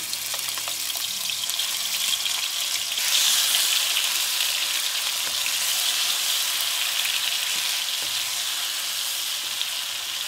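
Bay leaf, ginger, garlic, chili and onion paste sizzle steadily in a hot pan for a Bodo spicy smoked pork with jackfruit dish, a continuous close frying hiss that swells briefly partway through.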